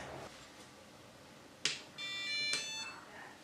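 A Yikong YK4107 RC crawler transmitter gives a sharp click followed by a short tonal electronic beep as a backlit channel is switched on, close and alone.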